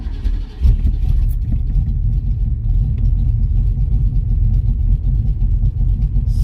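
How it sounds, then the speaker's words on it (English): A car engine idles steadily right after a start with no gas pedal applied, timing set at 18 degrees before top dead center, a loud continuous low rumble close by with no talking. "Starts right up, without gas pedal."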